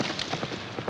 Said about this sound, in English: Get a horse ready.